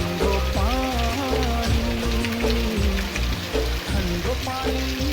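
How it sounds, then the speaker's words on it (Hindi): Heavy rain pours outside in the Garhwal hills, a steady hiss and patter running beneath a woman singing a Garhwali folk song close by. "बाहर ना बारिश आ रही है।"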